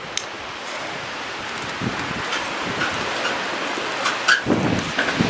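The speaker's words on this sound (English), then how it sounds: "Again, it's very windy." Steady, broad wind roar outdoors with gusts and rustling, loud and continuous, with occasional brief knocks and no talking.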